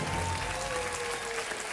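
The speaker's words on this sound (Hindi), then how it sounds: "और तालियां बजती रहनी चाहिए देवी और सजनों।" A studio audience on a television quiz show applauds a contestant's win in a continuous, even wash of clapping, moderately loud and with no talk over it.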